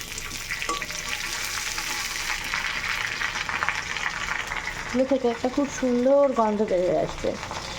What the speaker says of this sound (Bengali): পেঁয়াজ রসুনটা ভাজা হয়ে গেলে আমি দিয়ে দিলাম মাছ